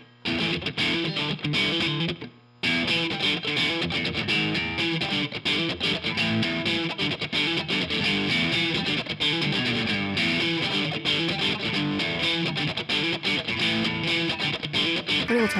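Heavily processed electric guitar played through preset 5 of a Matribox QME-50 multi-effects unit, a thick, distorted, chorus-tinged tone strumming loudly and continuously, broken by one short silent gap near the start.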